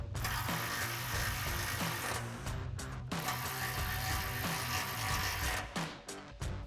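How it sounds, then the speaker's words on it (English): Ratchet with a 13mm socket tightening locking nuts during installation of a cat-back exhaust on a 2021-2024 Ford Bronco, heard as dense, steady ratcheting clicks broken by brief pauses between strokes. "We'll grab our ratchet and 13mm socket and tighten them down."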